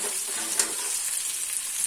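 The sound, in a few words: onion, chili and curry leaves frying in oil with cumin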